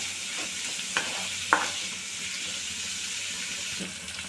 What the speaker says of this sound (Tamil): நல்லா இது மாதிரி வதக்கி விடுங்க